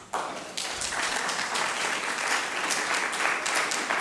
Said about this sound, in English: Another hands of applause to the panel.